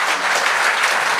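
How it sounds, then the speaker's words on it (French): Studio audience applause on the comedy talent show Le Gong Show: a short burst of dense, loud, continuous clapping heard on its own. "Applaudissez!"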